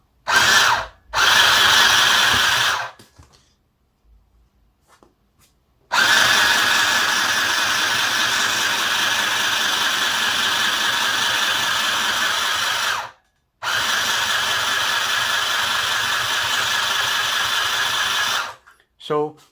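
Mini sewing machine stitching along a fabric hem, a steady close motor whir running in three long bursts separated by short pauses, with a brief start at the beginning.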